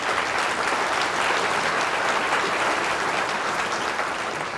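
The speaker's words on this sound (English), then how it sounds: "So give them a round of applause." An audience at a medical school lecture gives a steady round of applause for volunteers, dense, even clapping from many hands that continues throughout.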